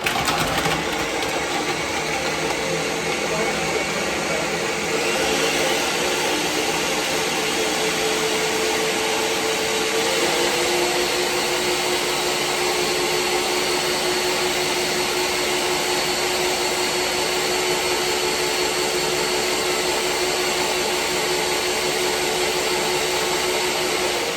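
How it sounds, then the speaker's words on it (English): Ninja food processor blending ingredients with a continuous loud motor whir, its pitch settling slightly after a few seconds, then steady, with no speech. "I'm gonna blend it a little bit with my food processor. I have one of these Ninja food processors."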